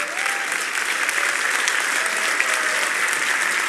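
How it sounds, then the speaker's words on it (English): Sustained applause from an audience at a political campaign event, a dense, steady wash of many hands clapping at fairly high volume with no gaps across the whole stretch. "You want to clap for me, I will stop talking."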